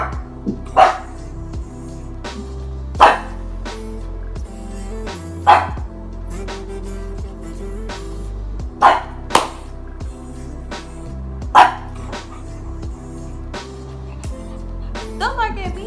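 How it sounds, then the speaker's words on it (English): A dog gives a series of sharp, loud barks at irregular intervals, about six or seven over several seconds, close by, with a person talking between and around them. "Don't bark at me"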